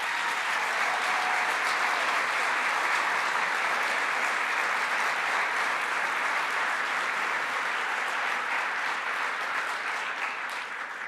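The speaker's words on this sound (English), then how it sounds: "give them a round of applause" Gala audience applause fills a large room, sustained dense clapping at an even level throughout, tapering only slightly near the end.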